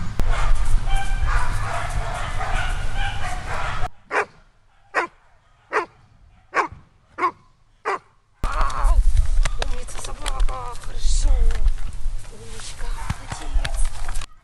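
A search and rescue dog in training barks six times in an even, loud series during a quiet gap, with outdoor talk and movement before and after the barking.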